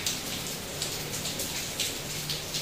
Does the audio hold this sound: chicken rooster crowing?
no